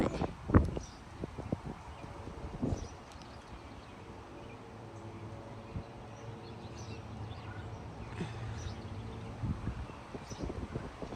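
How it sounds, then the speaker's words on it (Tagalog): Strong wind blowing outdoors near a tree, a low rumbling gusty roar buffeting the microphone, with a few sharp knocks and thumps early on. "Lakas ng hangin eh."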